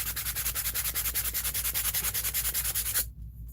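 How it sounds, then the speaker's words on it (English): Sandpaper rubs a molded piece flat in quick, even back-and-forth strokes, about six per second, close and crisp, before stopping suddenly. "I have a piece of sandpaper. Let me see if I can just quickly sand it flat"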